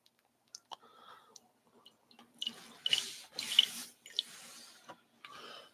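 Hot coffee brewed through a metal filter in a Chemex brewer is poured into a glass in a few short, quiet splashing bursts with faint clicks of glassware around them.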